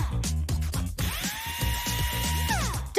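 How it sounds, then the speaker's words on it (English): A power drill bores holes in wood in a single steady whining burst of about a second and a half, close up, with rhythmic background music before and under it. "I have to drill holes."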